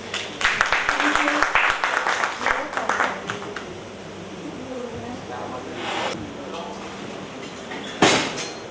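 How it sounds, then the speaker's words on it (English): Applause from the audience at a young leaders' conclave in Uttar Pradesh greets a singer, strongest in the opening seconds then thinning into scattered claps and room noise, with a sharp clap burst near the end. "please welcome her with a hand of applause"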